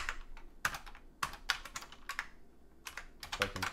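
Typing on a computer keyboard in short clustered bursts of crisp, close keystrokes with brief pauses between them, alone and fairly quiet.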